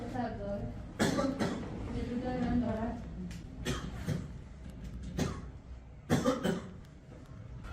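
A feverish man coughs in a hospital, with several harsh, broadband coughs in separate bursts spread over the span against a low room background.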